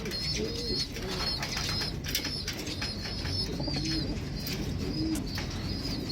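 At a pigeon racing loft during club training, pigeons coo softly several times over a steady outdoor background, with faint chirps and occasional wing flutters, and no one speaking.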